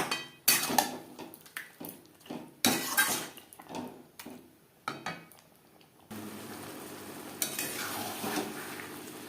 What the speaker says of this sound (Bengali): ম্যারিনেট করে রাখা চিকেন পেঁয়াজ টমেটোর সাথে বেশ ভালো করে মিক্স করে দেবো